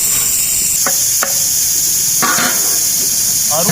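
Rice is stirred in a steaming cooking pot while making chicken mandi, with a few short scraping strokes against the pot over a steady background hiss.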